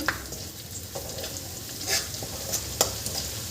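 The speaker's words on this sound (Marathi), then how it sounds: "यामध्ये आपल्याला हा कडीपत्ता टाकून द्यायचा आहे" Curry leaves frying in a reddish masala paste for a Maharashtrian Sankranti bhogi vegetable dish give a soft, steady sizzle, with a few brief crackles and stirring scrapes standing out close by.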